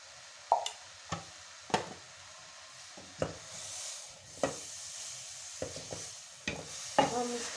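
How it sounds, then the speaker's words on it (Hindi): A spoon stirs and scrapes a spiced chicken filling for kachori in a bowl, giving a series of sharp clinks and taps at irregular intervals over soft mushy mixing sounds, close and clear with no talk. "हम इसको अच्छी तरह मिक्स कर लेंगे।"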